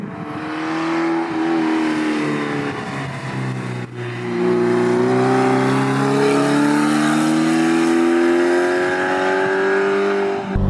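Toyota MR2 mid-engine sports car, a light two-seater, revving hard toward about 7,000 RPM, a loud steady engine note climbing and holding high for several seconds with a brief dip midway.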